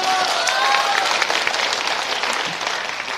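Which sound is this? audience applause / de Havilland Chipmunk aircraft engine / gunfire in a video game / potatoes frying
audience applause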